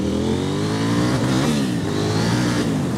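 A KTM 890 Duke R sport motorcycle pulls hard in second gear, its engine a loud, close, continuous roar that rises and dips in pitch as it revs, with no talk over it.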